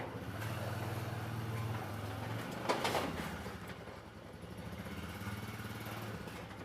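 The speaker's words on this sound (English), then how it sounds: "now you can take your ATV, or in this case, it's side-by-side, and drive it right up here" A side-by-side utility vehicle drives up a Condor T-Ramp onto a trailer. Its engine gives a steady low idling drone that rises and falls slightly, with a brief rattle partway through and no talking.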